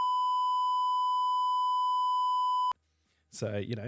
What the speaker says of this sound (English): I can actually go ahead and beep out the swear words